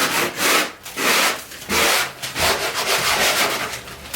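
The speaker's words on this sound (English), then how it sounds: "I love to use sanding sponges, like I said in my prior videos. This is a medium grit" A medium grit sanding sponge rubs lightly over a wall patch during a bathroom renovation, making close, steady back-and-forth scratchy strokes in an even rhythm with no talking.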